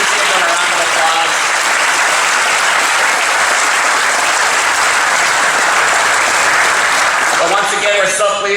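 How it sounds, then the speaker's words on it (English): An audience at a space club news media award ceremony claps in steady, dense applause that holds for several seconds and thins out at the end. "Please give them a round of applause."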